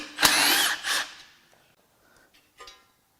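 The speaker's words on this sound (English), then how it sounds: "Next, I'll unbolt the windage tray." A power tool unbolts a 10mm bolt on the windage tray of a BMW M54 engine, giving one short, close whirring burst, a second briefer one, then faint clinks.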